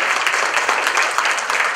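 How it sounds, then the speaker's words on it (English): A banquet audience claps steadily in a brief burst of dense, even applause, moderately loud and with no voices on top. "who for them I ask an applause as well"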